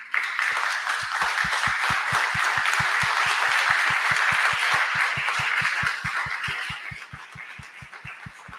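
A crowd at an award ceremony applauds loudly and steadily, with dense clapping over a regular rhythmic thumping that fades slightly at the end.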